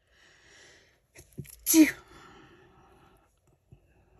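A single sharp human sneeze bursts out near the mic, preceded by a quick intake of breath and followed by faint breathing in an otherwise quiet room.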